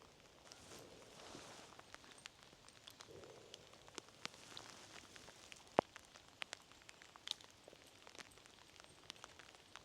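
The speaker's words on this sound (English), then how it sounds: "Even though it's raining" Rain falling outdoors on a winter walk along flooded, muddy paths in Kent, faint scattered drips and patters with a few sharper taps over a quiet, soft background, no voices.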